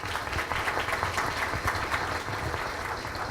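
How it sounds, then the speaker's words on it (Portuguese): An audience claps steadily and fairly loudly, a dense continuous patter of many hands with no voices on top. "eu gostaria que a gente aplaudisse mais uma vez aos nossos palestrantes"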